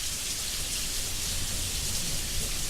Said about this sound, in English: The rain keeps falling